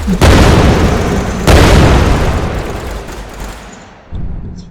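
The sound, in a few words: Vulcan cannon firing continuously in a space fighter video game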